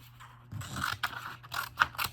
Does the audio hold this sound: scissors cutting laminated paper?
yes